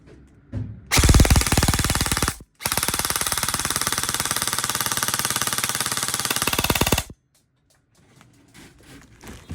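A Lancer Tactical LT-30 TU G4 NEB II airsoft rifle fires on full auto in two loud, close bursts: a short burst, a brief pause, then a long rapid stream of shots that stops abruptly.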